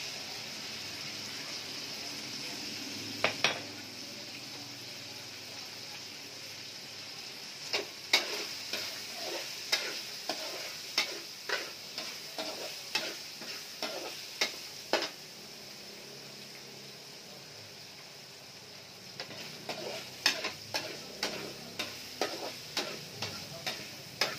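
Garlic and onion sauté in a pan with a low, steady sizzle, while a utensil stirs and scrapes in bursts of sharp clicks and taps.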